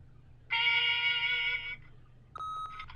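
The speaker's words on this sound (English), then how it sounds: "leave a message at the beep and we'll get back to you as soon as" An answering machine beep sounds as a loud sustained electronic tone of about a second, followed by a shorter, quieter second tone, alone over a low hum.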